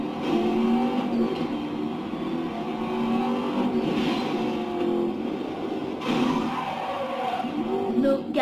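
A Bugatti engine in the video game Need for Speed Most Wanted (2012 edition) roars steadily and loudly throughout, swelling with repeated revs as it accelerates.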